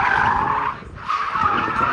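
A TVR car skids sideways at a car show, its tires squealing in a loud, sustained screech that briefly drops away before returning, close by and over engine noise.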